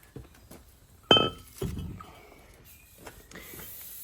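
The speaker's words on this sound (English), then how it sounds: "With a hammer, just take it out," A hammer knocks a brake disc off the front hub of a Lexus CT200h: a few sharp metallic strikes with ringing clanks, one loud blow followed by another, then lighter taps and scraping close by.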